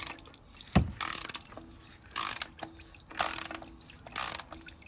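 A ratchet loosening the oil drain plug on a 2018 Toyota C-HR Hybrid, several short bursts of clicking with pauses between, close by and moderately loud.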